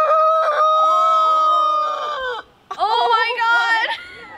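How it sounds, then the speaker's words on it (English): A rooster crows twice at a Napa Valley winery, loud and close, each a long harmonic call, separated by a short pause. "The first time I heard an actual rooster going like that."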